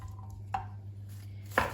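A spoon stirs boiled Mexican beans in a bowl, giving two brief, light knocks about a second apart over a steady low hum.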